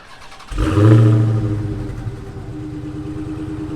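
A 2021 Dodge Charger SRT Hellcat Redeye Widebody's supercharged engine cranks and fires with a loud, close roar, then settles into a deep, steady rumbling idle.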